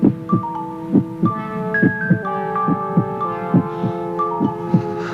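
A steady heartbeat thumps in even, paired pulses under a soft sustained musical tone.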